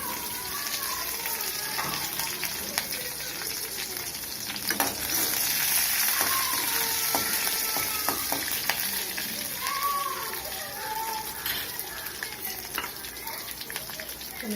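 Green chillies and curry leaves fry in hot oil after mustard seeds pop, giving a loud continuous sizzle with spitting crackles and occasional stirring scrapes, close by.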